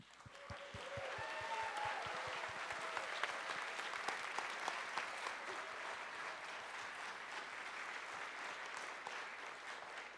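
Concert audience applauding at a symphony summer finale, a dense sustained wash of clapping from a crowd that starts abruptly and holds steady and fairly loud throughout.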